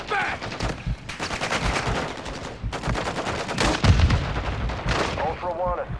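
Heavy gunfire and explosions in the video game DMZ, dense bursts of automatic fire and booming impacts filling the scene, loud and near, with players talking over the shooting.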